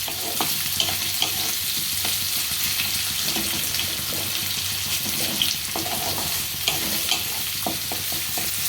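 Onions frying in a pan and stirred now and then, a loud continuous sizzle broken by repeated scraping and clinking of a spoon against the pan.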